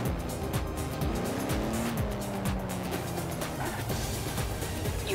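Aston Martin DB4 Zagato in Forza Horizon 4 revving hard, its engine note rising and falling while tires squeal and skid, loud and close throughout.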